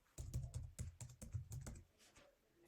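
Rapid keystrokes on a computer keyboard, a quick run of close, crisp clicks that trails off into quieter taps near the end.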